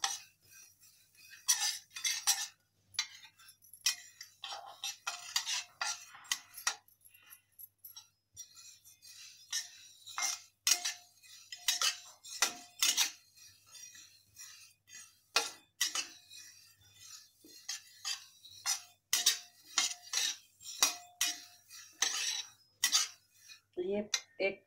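Pickle spices roasting in a pan are stirred steadily with a metal spoon, giving quiet, irregular scrapes and clinks that come and go, close up with no talking.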